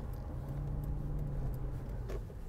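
A 2019 Lexus GX 460 SUV engine while driving in sport mode, a steady low rumble heard from inside the cabin, with no talk.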